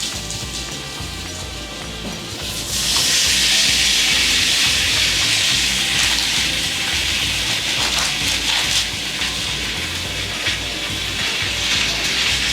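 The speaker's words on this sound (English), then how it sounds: "You can hear it sizzling." Seasoned chicken breasts sear in hot olive oil in a pan, a loud, close, continuous sizzle that swells after a couple of seconds and holds steady with crackly spits.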